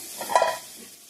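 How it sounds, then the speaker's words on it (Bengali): Chicken meat being sautéed and stirred in a pan gives a short, soft burst of sizzling with a brief scrape of stirring, close and fairly quiet. "তো এদিকে মুরগির মাংসটা কষানো হচ্ছে।"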